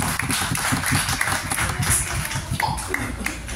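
Audience applause welcoming guest Maya Ali at a live event, steady dense clapping from a crowd filling the room for several seconds.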